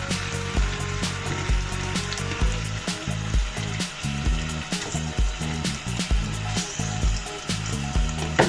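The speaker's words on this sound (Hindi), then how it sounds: "मैरिनेट की हुई चिकन पैन में डाल देंगे और उसको भूनेंगे।" Marinated chicken fries in a pan with a constant sizzle, broken by repeated rhythmic scraping and knocking strokes of a spoon against the pan.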